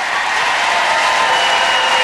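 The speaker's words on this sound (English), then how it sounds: "Give them a round of applause" A studio audience in Somerville gives U2 a round of applause, a dense, even wash of clapping that stays loud and continuous throughout.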